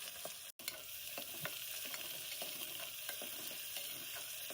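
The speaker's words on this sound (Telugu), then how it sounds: "అందులోకి కరివేపాకు పచ్చిమిర్చి అలానే ఆనియన్స్ కూడా వేసేసుకొని వేపేస్తున్నాం" Curry leaves, green chillies and onions fry in hot oil for a kandipappu beans curry, a soft, even sizzle with light stirring taps throughout and one brief dropout, no voices.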